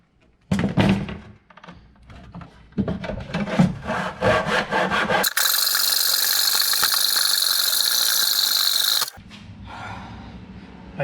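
A hand saw cuts through a wooden board for a dog gate, first in quick rough strokes, then in a loud continuous rasping run that stops abruptly, all close up with no talk.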